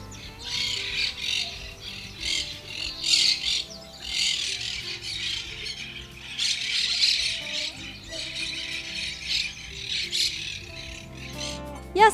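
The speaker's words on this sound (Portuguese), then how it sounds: "um grande bando de maritacas que construiu seus ninhos nas 2 árvores de pinos europeu" A large flock of maritaca parakeets nesting in two European pine trees beside a big wooden church, squawking and chirping continuously in overlapping harsh calls at moderate distance.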